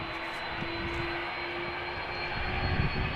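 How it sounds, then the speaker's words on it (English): A Delta Air Lines Airbus A330-300 departs Amsterdam Schiphol in a light crosswind, its jet engines a steady roar with a constant whine, loud and close, swelling slightly toward the end. "This is Delta Airlines flight 143, Airbus A330-300, destination Seattle"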